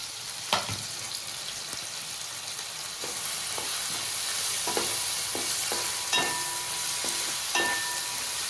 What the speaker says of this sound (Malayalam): അപ്പോൾ നമുക്ക് പകുതി സവാള എടുത്ത് വറുത്തെടുക്കാം കേട്ടോ